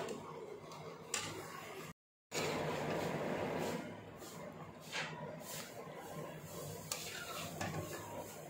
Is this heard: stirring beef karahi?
yes